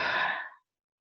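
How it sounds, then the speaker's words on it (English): A single soft exhale during a chair yoga session, a breathy sigh lasting about half a second, close and quiet, then silence. "Exhale."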